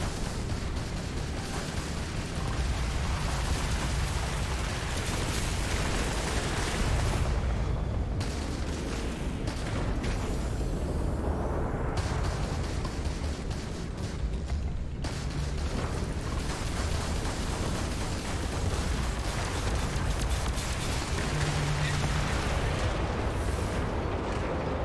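Sustained enemy gunfire in the video game Starfield, a dense, continuous barrage of shots and blasts at moderate distance that runs throughout with little letup.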